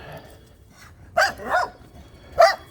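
A dog outdoors gives three sharp barks spaced about a second apart, moderately close against a quiet background.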